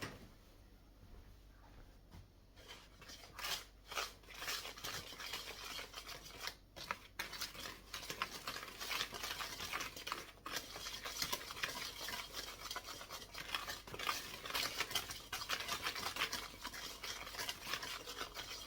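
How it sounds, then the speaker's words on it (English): A whisk mixes carrot cake muffin batter in a bowl, with quiet, rapid scraping and tapping strokes that start softly and settle into a steady rhythm with no talk. "we're going to give that a little mix with a whisk"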